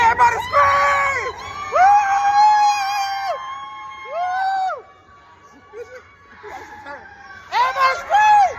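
A crowd of riders screams and whoops on the Yeti roller coaster at a Disney Animal Kingdom theme park. Loud, close, overlapping shrieks come in waves, drop to a quieter stretch in the middle, then surge again at the end.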